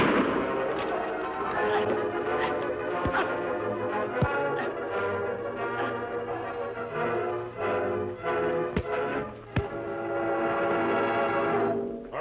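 Sharp gunshots crack out one at a time from a 1953 Western TV episode, several spaced blasts over a continuous bed of dramatic orchestral music.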